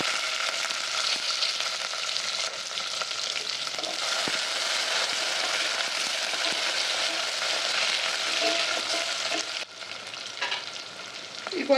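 Green chillies, onions and curry leaves fry in hot oil over a tempering of cumin, mustard seeds and urad dal, making a loud, continuous sizzle that holds steady throughout, with no talking.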